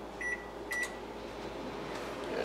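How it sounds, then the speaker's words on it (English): A microwave oven runs with a steady hum while heating potatoes wrapped in wet paper towel, with a few short beeps near the start. "with technology these days I love to use the microwave"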